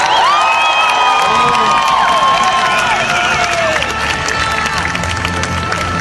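A large crowd in Callao celebrating Spain's 2011 European basketball champions cheers and whoops loudly, with high shouts and sustained yells over clapping and general crowd noise.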